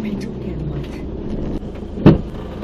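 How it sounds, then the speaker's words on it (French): A car drives across sand in the marshy Sine Saloum delta of Senegal, a steady low vehicle rumble running throughout with a louder thump near the end, a voice faintly present. "Elle roule sur le sable cette voiture."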